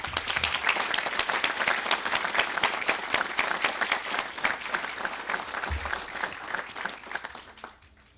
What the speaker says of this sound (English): please join me in giving our instructors and volunteers a round of applause